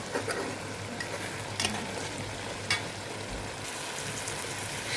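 Bottle gourd simmering down in a pan as its water cooks off, a continuous soft sizzle broken by a few brief scraping stirs, close and alone without speech.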